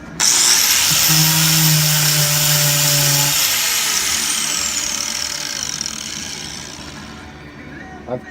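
A grinder with a 32 grit disc works a fiberglass boat hull, giving a loud, steady abrasive whine that runs close and continuous and fades slightly toward the end, while a voice speaks at the start.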